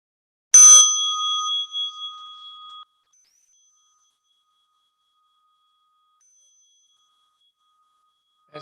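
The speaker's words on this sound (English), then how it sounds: "As you listen to the bell," A single meditation bell struck once in a quiet setting, a clear bright tone that rings out and slowly fades over about two seconds, followed by silence.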